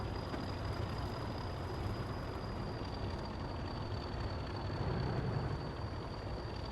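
Twin LMS diesel locomotives rumble in Train Simulator Classic, a low, steady engine drone with a faint high whine above it, swelling slightly near the end as the revs climb.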